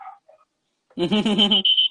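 Neighborhood dogs barking nearby in a burst of rapid, loud yaps that run into a sustained high whine, after a short quiet gap with faint distant sounds.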